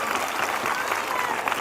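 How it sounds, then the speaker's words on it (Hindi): A church congregation applauds at a Sunday evening prayer meeting, a dense, steady wash of clapping that fills the hall for the whole moment with no break. "आपकी तालियों की गड़गड़ाहट"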